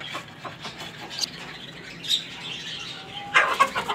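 Finches chirp and flutter with brief bursts of wingbeats, several calls scattered over a steady background, with a livelier flurry near the end.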